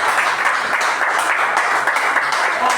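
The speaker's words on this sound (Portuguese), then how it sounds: "palmas ao nosso Senhor Jesus." A church congregation claps in praise to Jesus during a Portuguese-language worship service, a steady, dense wash of hands filling the room for a few seconds with no voice over it.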